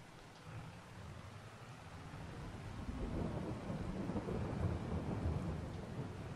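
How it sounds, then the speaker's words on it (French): Thunderstorm in the farming game Farming Simulator 22: steady rain with a deep rumble of thunder that swells and grows louder partway through, continuing without any voices. "On a l'orage."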